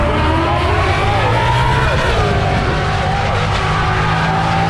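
Classic Mustang and Ford drag race cars roar at an NMRA event in Bradenton, Florida, a loud, steady wall of engine noise with no break throughout.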